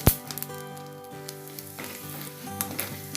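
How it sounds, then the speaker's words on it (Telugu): Peanuts and chana dal fry in a pan with a soft crackling sizzle, opening with a sharp knock and then light stirring taps over a quiet, steady hiss. "పల్లీలు, వీటిని వేయించుకుందాం. ఒకసారి ఇలా కలుపుకుంటే అన్నీ మంచిగా వేగిపోతాయి."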